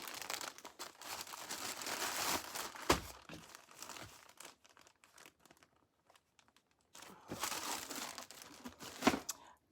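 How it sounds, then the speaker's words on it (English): An item is folded and slid into a plastic mailing bag, giving close, irregular crinkling and rustling in two busy bursts with a quieter stretch between. "Fold it, bag it, weigh it."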